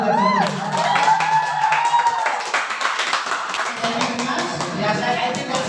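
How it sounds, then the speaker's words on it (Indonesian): A classroom of students clapping and cheering together at the end of an English lesson, loud mixed claps and shouts that swell after a brief spoken phrase and keep going with lively crowd noise. "Tepuk tangan dulu dari sini."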